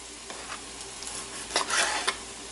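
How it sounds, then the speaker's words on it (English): Chicken thighs coated with Lawry's seasoning are mixed by hand, giving soft, moist squelching and rustling sounds, quiet and close, with a louder wet burst near the end and no talk. "Mix it up."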